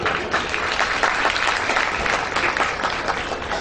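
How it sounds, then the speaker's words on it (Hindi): A large audience at a religious discourse breaks into loud, sustained applause, a thick continuous roar of many hands clapping close and even throughout, with no speech on top. "सबके लिए जबरदस्त तालियां।"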